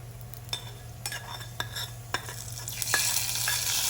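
Fried shallots and curry leaves tipped into a spicy fish curry, heard as a few distinct stirring clatters against the pan over a low sizzle that swells toward the end, with no talking.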